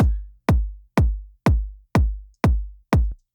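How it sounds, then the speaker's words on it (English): Seven punchy electronic kick drum hits at a steady tempo, each with a brief white noise hiss layered on its attack, decaying cleanly between beats. "the kick and this white noise that make up the full picture of the kick would sound like this"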